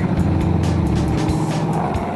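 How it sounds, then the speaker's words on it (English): A deep, steady V8 car engine rumble with throaty tones from an aftermarket performance exhaust, over 300 horsepower, loud and close, holding at a constant idle-like throb with no talking. "an exhaust system from Ringwood Performance Exhaust certainly gives me that performance rumble."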